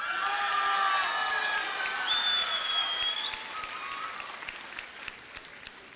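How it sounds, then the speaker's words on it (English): Graduating scholars at a high school graduation ceremony receive a big round of applause from the crowd, with cheers and whoops rising over the clapping before it thins toward the end. "give each one of our scholars another huge round of applause"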